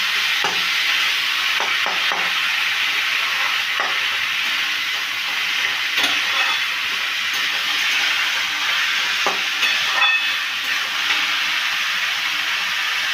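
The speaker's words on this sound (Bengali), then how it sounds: "এবারে এটাকে আমি ভালো করে মশলার সাথে কষিয়ে নিচ্ছি" Banana flower with potato being stir-fried in spices in a pan for a prawn curry, giving a steady broadband sizzle with irregular scraping stirs throughout, no voices.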